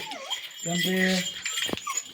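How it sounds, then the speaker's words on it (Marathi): A female dog close by whimpers and yips softly in short high whines, mixed with a person's voice and some light rattling. "ही कुत्री असं जवळ आली"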